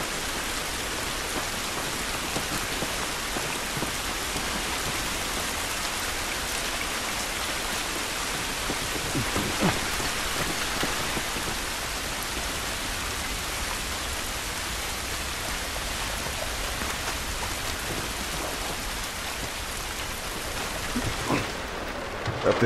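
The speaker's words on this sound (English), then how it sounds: "This rain ain't gonna do us any good." Steady, dense rain falls in the video game The Last of Us, a continuous even hiss of drops on surfaces that lasts throughout with no voices.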